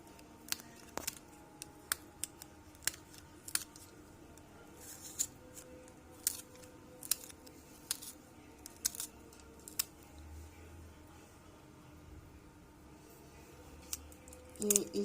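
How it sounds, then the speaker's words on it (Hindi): Green chilies are finely chopped with a knife on a board, giving sparse, sharp clicking taps at an irregular pace over a quiet background, with a few closer, louder knocks near the end. "अब सब्ज मिर्चें ऐसे बारीक साइज में काट लेंगे"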